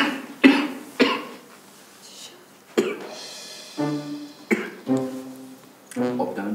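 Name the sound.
cough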